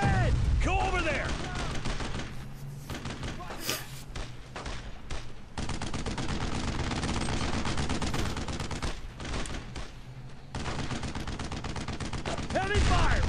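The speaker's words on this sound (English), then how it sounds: "Heavy fire, right there." Heavy gunfire rattles through a Brothers in Arms: Road to Hill 30 battle on a road, with sustained rifle and machine-gun bursts, a few deep booms, and a brief pause midway before the shooting resumes, loud and dense throughout.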